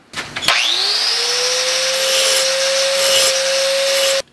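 Power tool grinding a 45-degree scarf along the edges of a metal hoop being made for a Honda Goldwing bobber build, a loud steady high whine that starts abruptly and holds for about four seconds.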